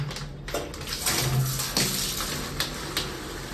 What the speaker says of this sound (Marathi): तर चला मी आता पहिले पाणी टाकून देतो.